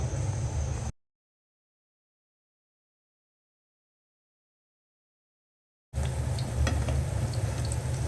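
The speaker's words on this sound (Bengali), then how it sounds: "সবার আগে আমি ডিম চপটা ভেজে নেব ডুবো তেলে।" An egg chop deep-fries in oil in a wok, giving a steady hissing sizzle that cuts to full silence for several seconds before the frying returns, with no talking.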